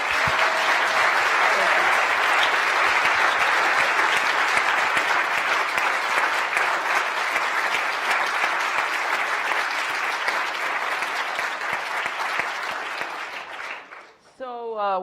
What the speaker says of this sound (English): So one more round of applause for these players.